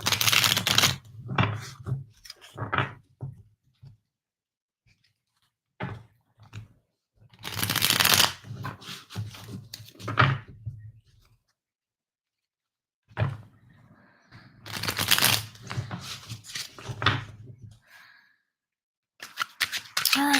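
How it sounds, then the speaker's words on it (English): Tarot cards shuffled by hand in bursts of riffling and flicking, with short pauses between rounds, close and fairly quiet, with no talking. "I feel like I need extra shuffles for this."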